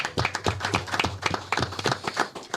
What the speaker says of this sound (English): I want to give a round of applause for everyone that's here